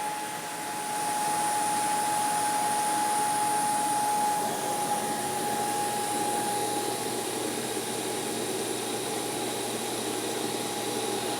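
eufy S1 Pro robot vacuum station running its dust collection: a loud, steady whooshing roar with a high whine, starting abruptly and holding constant for about ten seconds, close by and alone.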